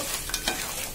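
Crab being mixed into roasted masala, a brief hissing sizzle with a couple of soft stirring scrapes, close and without talk.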